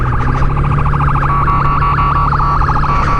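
A loud ambulance siren wails nearby in a rapid, warbling yelp pattern, steady over a constant engine hum with no voices.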